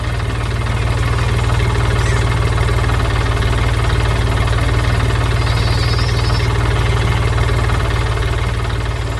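Blue truck engine running in an animated cartoon about tractors and an apple orchard harvest, a loud steady droning rumble with constant low hum throughout, no voices.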